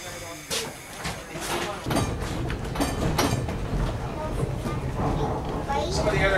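A historic streetcar at a radial railway museum rolling on rails through a forest, a steady rumble and hiss heard from on board, with people talking over it.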